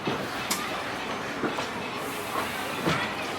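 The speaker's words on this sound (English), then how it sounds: "welcome aboard the Disneyland Railroad." Disneyland Railroad train rolling along at the theme park, with a muted, steady running rumble and a few soft rhythmic clacks from the wheels, heard from on board.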